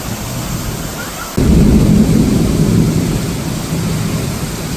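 A sudden heavy monsoon downpour breaks over Mahad in the Konkan region, a dense roar of rain with deep rumbling thunder that jumps in loudness abruptly and keeps pouring steadily.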